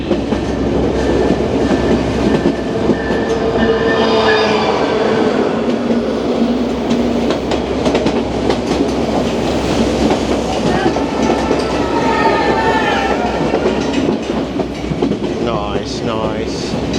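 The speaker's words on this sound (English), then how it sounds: "We got another train coming our way." A White Pass & Yukon Railway train rolls past on the line from Skagway, a continuous loud rumble of wheels and cars with clacking and faint squeals running steadily throughout.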